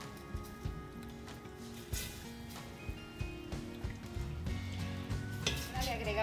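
A spoon stirs flour into a pot of yogurt soup (jocoque) on the stove, with soft scraping, clinking against the pot and light sizzling throughout, close and moderately quiet.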